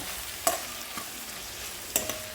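Vegetables such as capsicum being sautéed with salt in a pan, a few sharp spoon scrapes and knocks over a soft, steady sizzle, no talking.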